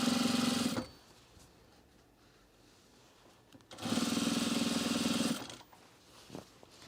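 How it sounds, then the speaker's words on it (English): A sewing machine stitches binding onto a sewn rug in two steady bursts of rapid mechanical whirring, separated by a quiet pause of about three seconds, with a faint knock near the end. "The other reason I like to gently pull my binding as I sew it on"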